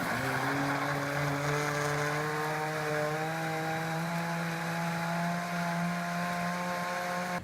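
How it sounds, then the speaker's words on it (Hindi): A kitchen blender whirring through yogurt, sugar and milk for mango lassi, a steady motor hum whose pitch climbs slightly as it spins up, then holds evenly until it cuts off, fairly quiet. "हमें इसको ब्लेंड करेंगे"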